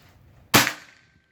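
A single sharp PCP air rifle shot cracks out nearby, a sudden loud snap with a short ringing tail that fades in under a second.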